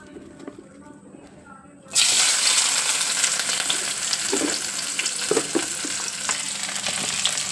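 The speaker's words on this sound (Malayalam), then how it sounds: "ഈ ചട്ടി വെച്ചിട്ടുണ്ട് അതിൽ ഇത്തിരി വെളിച്ചെണ്ണ വെച്ചിട്ടുണ്ട് ഇനി നമ്മൾക്ക് ആദ്യമായിട്ട് നമുക്ക് സവോള ചേർത്ത് കൊടുക്കാം" Sliced onion dropped into hot coconut oil in a pan bursts into a loud, steady sizzle after a quiet start, with occasional stirring scrapes and small pops continuing close by.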